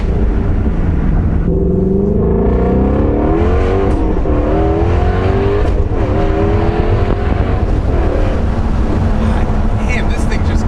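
A Ford Mustang Shelby GT350R engine revs hard and accelerates on a public road, a loud, close, sustained roar with rising and falling pitch as it pulls through the gears, with occupants talking inside the cabin.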